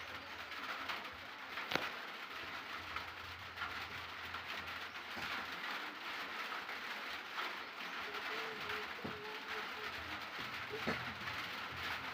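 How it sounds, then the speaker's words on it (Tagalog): Steady rain falls outdoors as a continuous broadband patter, with pigeons cooing faintly now and then in the background and no talking. "By the way, guys, it's raining."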